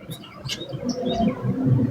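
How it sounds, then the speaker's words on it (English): Birds chirp and tweet in short, scattered calls outdoors beside a noisy motel area, faint to moderate under low background rumble, with no talking. "Birds are relaxing though."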